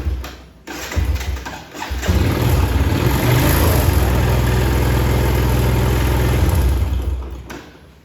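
A motorcycle running on a Yuasa YB4L-B wet battery cranks with a few stuttering turns and starts. It settles into a loud, steady, close idle that throbs for several seconds before fading.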